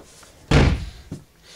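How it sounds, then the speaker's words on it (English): A house-type rear entry door in the hallway of a park model RV closes with a single loud, close slam, followed by a lighter secondary thud. "House type rear entry door in the hallway"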